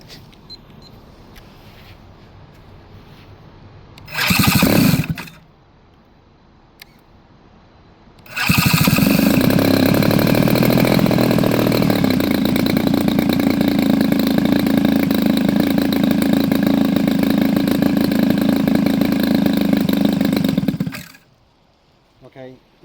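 Gas engine on a CY Model SBD-5 Dauntless RC airplane with a 100-inch wingspan: a short loud burst as it cranks, then it fires and runs loud and steady for about twelve seconds before cutting off, with quiet talk in the gaps.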